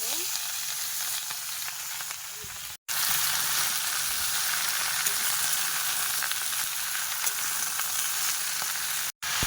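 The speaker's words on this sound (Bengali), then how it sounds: "কড়াইতে তেল দিয়ে দিয়েছি পেঁয়াজ কুচি দিয়েছি পাঁচফোড়ন এবারে সবজি দিয়ে" Vegetables fry in hot oil with chopped onion and panch phoron in a kadai, a steady loud sizzle that carries on throughout, cut by two brief silent gaps.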